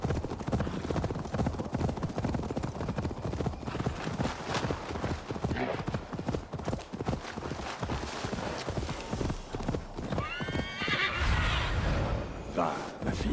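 Rapid hoofbeats clatter steadily in the video game Assassin's Creed Valhalla, then a horse whinnies loudly near the end, with a voice talking over the galloping.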